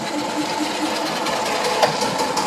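A BMW Isetta 300 engine cranks and runs on choke with a fast, buzzy chatter that stays steady and fairly loud close by, broken once by a brief sharper knock.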